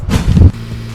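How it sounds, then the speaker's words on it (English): A Mazda Miata with its top down being moved out, giving a brief loud engine rush for about half a second that drops to a low, steady idle hum, close by with no voices. "gotta move out the Miata"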